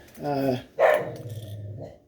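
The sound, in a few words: dog barking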